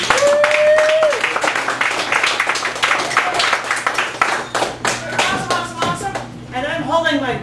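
Audience at a poetry open mic claps steadily, a dense patter of hands that thins toward the end, with people talking over it.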